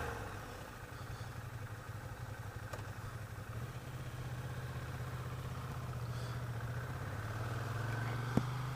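A brand-new 2015 Ducati Diavel Carbon motorcycle, still being broken in, idles with a quiet, steady low exhaust hum that continues evenly throughout, with a faint click near the end.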